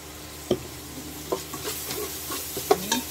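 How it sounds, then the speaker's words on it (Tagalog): Chicken sautéing in a pan gives a quiet, steady sizzle, broken by several sharp clinks and scrapes of a utensil stirring the pieces. "parang sasangkutsa lang natin ang chicken"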